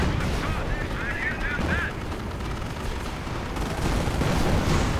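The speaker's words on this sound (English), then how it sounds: "Artillery called in again in some desperate attempt" Artillery fire in a World War II real-time strategy game, dense overlapping booms and rumbling impacts continuing throughout with distant gunfire mixed in.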